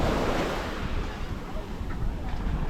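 Ocean surf washes along the open shore at Mexico Beach, Florida, as a loud, continuous roar mixed with gusty wind buffeting the microphone.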